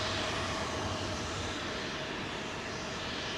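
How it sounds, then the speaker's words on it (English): A lightly loaded Turkish Airlines Boeing 777 jet at Heathrow, a dense, steady engine roar filling the whole stretch without a break. "See, that's a very light Turkish 777 there."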